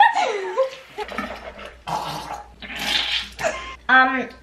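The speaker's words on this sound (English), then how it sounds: "Okay, we're gonna gargle." A person gargles water at a bathroom sink during a toothbrushing challenge, giving a close, bubbling, throaty gurgle in short bursts mixed with vocal noises and brief talk.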